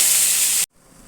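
Ginger, garlic, onion and tomato paste hits hot oil with a loud, bright sizzling hiss for about half a second, then cuts off abruptly to a faint residual crackle.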